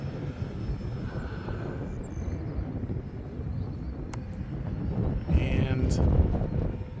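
An FMS Pitts RC model airplane flies overhead, its electric motor giving a steady buzzing whine that swells toward the end, with wind buffeting the microphone while someone talks.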